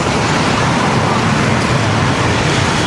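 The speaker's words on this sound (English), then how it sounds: "Fucking hell, I've got cars all around me here." Dense, continuous roadway noise of city traffic in Danang, Vietnam, with cars close on every side, a loud, unbroken wash of engines and tyres.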